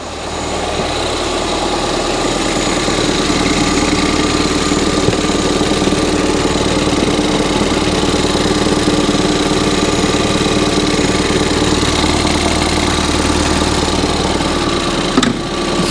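Ford Fiesta ST180 engine idling roughly with a vacuum line fault, a loud, continuous close-up drone with a vibrating, uneven texture and no talking over it.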